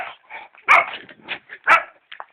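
A dog barks close and loud in a quick run of about five or six short yapping barks, with no talk over it.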